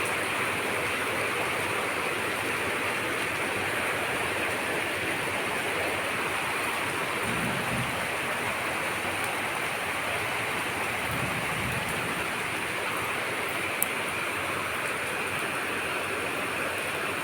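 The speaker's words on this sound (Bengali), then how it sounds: "তো দেখলে বৃষ্টি হচ্ছে এখানে" Early-morning rain falls steadily outdoors, a constant even hiss without breaks, moderately loud, close and uninterrupted, with no voices.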